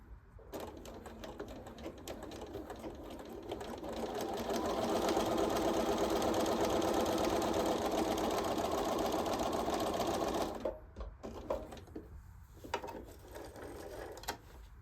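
A sewing machine back-stitches a lapped zipper seam at 2.5 mm stitch length, its fast, steady mechanical whir running for several seconds up close, bracketed by quieter handling noises before and after.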